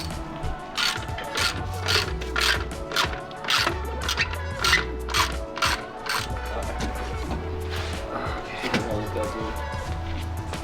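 Ratchet clicking in repeated bursts while the three strut top nuts come off a Subaru WRX being lowered, with a steady background hum throughout and a few brief voice sounds.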